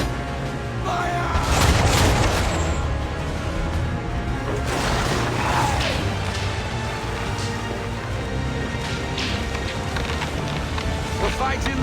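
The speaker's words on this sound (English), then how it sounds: "Fire broadside!" Ship cannons fire a broadside during a naval battle in Assassin's Creed 3, with loud booms and splintering crashes over heavy wind and sea noise. Shouted voices are mixed in.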